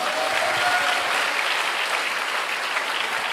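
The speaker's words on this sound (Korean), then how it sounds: "정연하님께 영광의 박수 올려드립니다." A church audience breaks into sustained, loud applause, a dense and even wash of clapping that fills the room with no speech over it.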